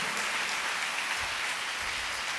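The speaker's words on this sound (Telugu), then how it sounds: "కొట్టు గట్టిగా చప్పట్లు" A church congregation claps loudly and joyfully during a Telugu sermon, a dense continuous patter of hands filling the room without pause.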